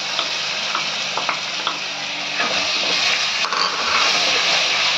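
Small onions sizzle in salted hot oil in a pan, a loud continuous close frying hiss broken by occasional soft clicks and spatters.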